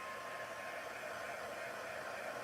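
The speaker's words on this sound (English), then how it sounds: "Let me hit that with my heat gun." Heat gun drying craft paint on a home decor sign, a loud steady hiss of blowing air running continuously and alone throughout.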